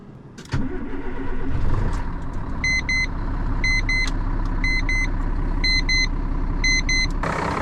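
An airport toilet truck's engine idles steadily to warm up, a low continuous rumble after a brief start-up burst, with a repeating electronic beep pattern sounding over it.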